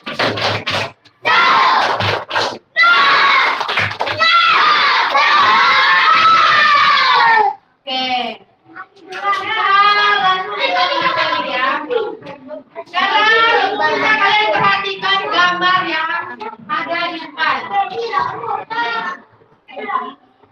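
A classroom of schoolchildren performs the tepuk semangat clapping chant, loud voices chanting in bursts punctuated by rhythmic claps, with short pauses between phrases and a teacher's voice leading.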